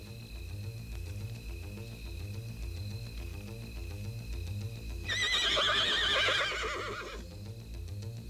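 A horse whinnies loudly for about two seconds partway through, over a steady low rhythmic rumble and faint background tones.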